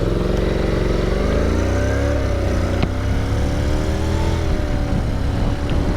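A 2021 Honda NC750X DCT motorcycle pulling away on the road, its engine note droning steadily and rising in pitch as it gathers speed, with wind rumble underneath throughout.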